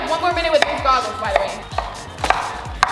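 Onions being chopped on a board during a crying challenge, a quick run of sharp knife strikes close up, irregular and fairly loud, with people's voices and movement around them.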